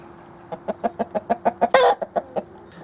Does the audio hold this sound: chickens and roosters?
yes